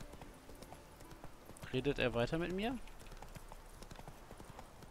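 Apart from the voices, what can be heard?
horse Roach's hooves in the video game The Witcher 3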